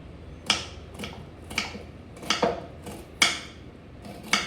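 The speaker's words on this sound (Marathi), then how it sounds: "कधी एकदाचा कांदा चिरून होतो आणि कधी नाही" Onion being chopped on a board with a knife, a series of sharp, close chopping taps at an uneven pace, roughly seven distinct strikes with quiet gaps between them.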